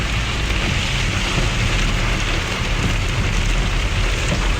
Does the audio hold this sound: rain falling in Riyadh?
yes